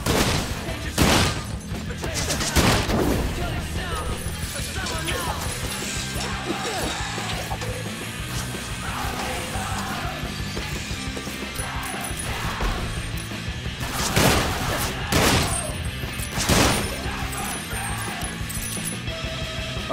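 Enemy gunfire in the Sunset Overdrive video game, a dense mechanical clatter of rapid shots and impacts with louder bursts around a few moments, running continuously amid game sound effects.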